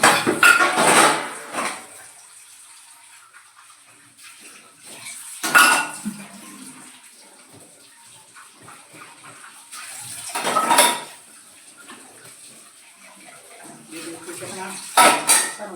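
Dishes, pots and containers clatter in intermittent bursts as they are washed, with metal and cutlery clinks, running water and quieter handling between the louder clusters.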